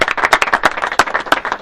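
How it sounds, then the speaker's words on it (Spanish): Brief burst of applause for a working family, dense clapping with irregular peaks, fairly close and loud, no talk over it. "con un fuerte aplauso quiero despedirme de esta familia trabajadora"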